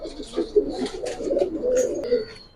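Military and Silver Pankhi pigeons coo nearby in a low, rolling, repeated murmur, with brief higher chirps and rustles mixed in over a short stretch.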